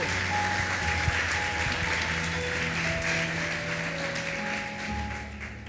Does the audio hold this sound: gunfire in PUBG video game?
no